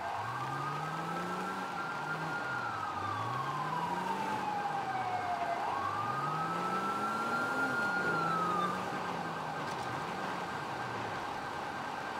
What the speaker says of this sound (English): I still hear sirens down this way.